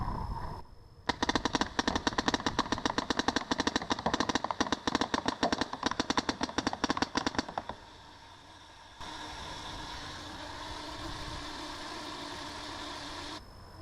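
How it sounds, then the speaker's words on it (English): Speedball paintball gun fired in a rapid, steady full-auto string for about seven seconds, fed by an M1 mechanical force-fed hopper, followed by a lull and then a steady mechanical whir as the hopper winds. "that's the M1 mechanical force fed in action with a speedball gun"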